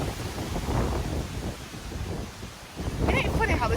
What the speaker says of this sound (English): God, this wind.